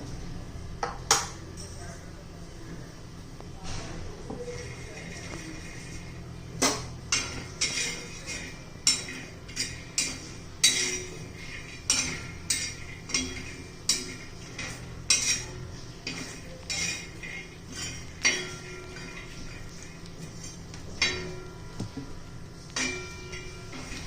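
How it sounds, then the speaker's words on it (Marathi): Peanuts dry-roast on a hot iron griddle (tawa) while being stirred, giving repeated irregular metallic clinks and scrapes over a low, steady background, close and fairly loud. "तर खमंग अशी आपण हे शेंगदाणे भाजून घेऊ."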